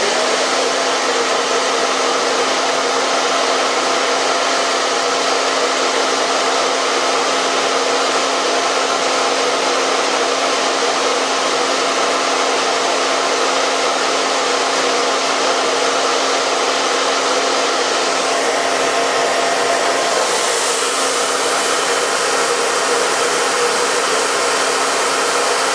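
Hair dryer blowing steadily on a beard, a loud continuous whir with a constant hum, shifting briefly in tone near the end as the airflow changes.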